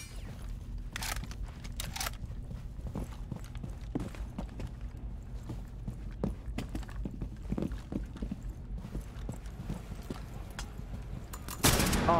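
A flashbang grenade goes off in Rainbow Six Siege as one sharp, loud broadband burst near the end, after a long stretch of steady low game hum and scattered light clicks and thuds.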